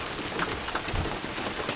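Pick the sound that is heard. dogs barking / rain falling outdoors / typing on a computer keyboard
rain falling outdoors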